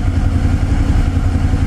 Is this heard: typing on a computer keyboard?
no